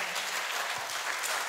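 An audience applauds at a North Karnataka comedy show held for a silver jubilee celebration, a dense, even wash of many hands clapping, brief and without speech.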